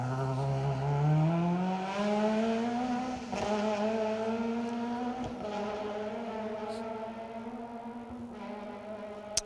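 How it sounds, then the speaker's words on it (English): Historic Ford Escort rally car racing along an asphalt stage at the Manx Rally, its engine note climbing and shifting through gears, with a few sharp bangs. The car is fairly close, and commentary runs faintly beneath. "Lee Edwards dropping back behind the first of our historic Cup runners, the hard-charging escort from West Wales of Steph Davies and Michael Gilby."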